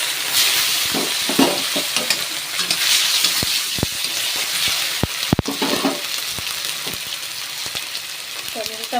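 Chopped tomato sizzles in a pan of whole cumin and black cumin tempering, a close steady frying hiss broken by sharp clicks and scrapes of a spoon stirring.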